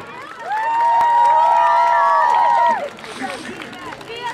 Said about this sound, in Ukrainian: Ваші красиві оплески.